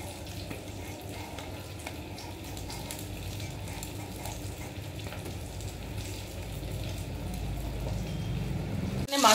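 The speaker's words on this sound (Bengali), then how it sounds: "মাছের ঝোলে আলুগুলো ভেজে নিচ্ছি" Potato pieces fry in hot oil for a hilsa fish curry, a soft continuous sizzle with faint stirring scrapes that grows slightly louder toward the end, close by and fairly quiet.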